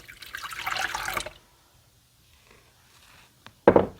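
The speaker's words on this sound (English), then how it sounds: "And I'm going to add that sour milk." Sour milk being poured into bran muffin batter gives a brief liquid splash and trickle at the start, then near silence, then another short wet burst of pouring near the end.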